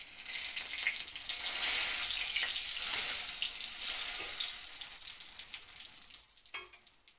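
Bay leaves go into hot mustard oil with dried red chilli for a Bengali chhanar dal, giving a steady, bright frying hiss that swells and eases over several seconds, close and without voices.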